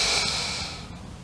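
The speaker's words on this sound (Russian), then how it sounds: "Вдохни глубоко." A long, steady breath drawn in deeply, close and fairly quiet, fading slightly toward the end, with no talk.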